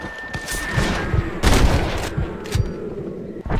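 Gunfire in the Western video game Red Dead Redemption, a burst of several sharp shots with a heavier blast near the middle and scattered cracks after, loud and close against a low background rumble.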